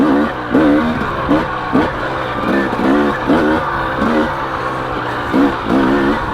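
A KTM two-stroke dirt bike, 250XC or 300XC, revs in second gear with a series of sharp, rising blips that repeat roughly every half second, loud and nearby.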